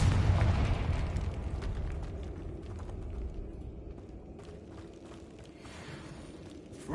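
A fiery Confringo spell blast in Hogwarts Legacy: a deep booming explosion that swells at the start and then rumbles and fades slowly.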